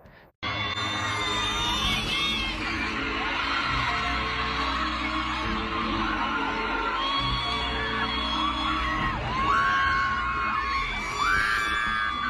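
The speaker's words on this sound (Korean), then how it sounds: "붉은 연막을 뚫고 멤버들이 등장하자 경기장이 흔들릴 정도의 함성이" Huge stadium crowd at a concert in Paris roars and screams as the members appear through red smoke, a loud sustained wall of cheering, shrieks and whoops that starts abruptly and swells again near the end.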